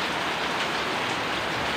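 Heavy rain pours steadily outside a house under a dark afternoon sky, a dense, loud, unbroken hiss of drops drumming on surfaces with no voices.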